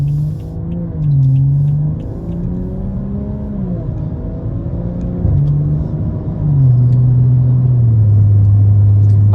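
A stage 2 BMW F30 with around 100,000 miles, fitted with a muffler after running a straight pipe, droning steadily while cruising below 2,000 RPM. The low exhaust hum holds a constant pitch, dips and shifts slightly in places, and plays loud and close with no talking.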